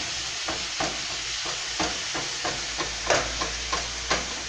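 Pressed meat fries in a hot pan with a steady sizzle, while a utensil scrapes and breaks it apart in regular strokes about every half second.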